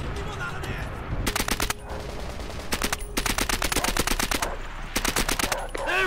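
Suppressed MP40 submachine gun bursts in a Call of Duty World War II battle, firing in three rapid rattling strings between short pauses, loud and close, with faint in-game voices underneath.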